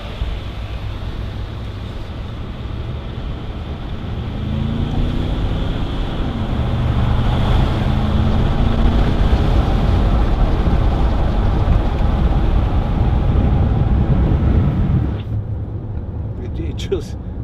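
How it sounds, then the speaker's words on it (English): A 2010 Range Rover Sport 3.6 TD V8 HSE diesel drives on the road, its engine giving a steady low drone that swells slightly as it pulls, with wind and road noise around it. "And even for a diesel, they sound really good."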